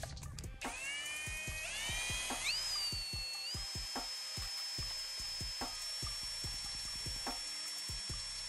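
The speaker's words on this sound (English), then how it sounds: "So the drill on low speed." Power drill running at low speed to mix silver flake base paint for a lowrider paint job, a steady whirring whine that rises in pitch early and holds, with rhythmic knocking and sloshing throughout.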